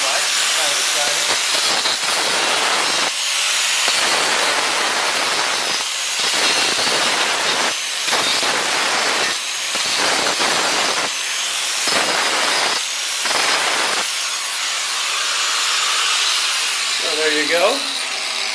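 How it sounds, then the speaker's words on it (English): An angle grinder cuts off protruding cement pieces and pins from a shotcrete fake rock, screeching in repeated hissing bursts with short gaps between cuts, close and loud, ending in a quieter tail. "And I just use a grinder."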